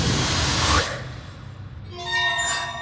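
A cartoon train engine lets out a loud, close burst of hissing steam that cuts off abruptly, followed by a brief quieter pause and then a whistling, tonal hiss as the steam fades.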